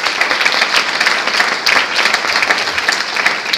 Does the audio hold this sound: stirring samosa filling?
no